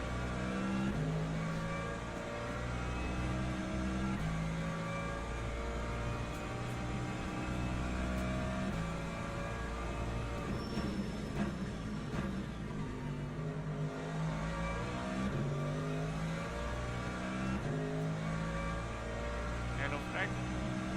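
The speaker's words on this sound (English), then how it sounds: "Hypercar." A hypercar engine howls through a four-hour endurance race at Sebring, a steady car roar with rising and falling revs that holds throughout at moderate level.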